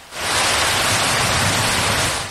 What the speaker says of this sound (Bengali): অবশেষে বহুল কাঙ্ক্ষিত বৃষ্টি ভিজিয়ে দিল ধরণী